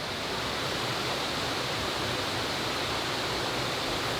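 Goit Stock waterfall near Bradford pours in a loud, constant, broadband roar, steady throughout with no voices over it.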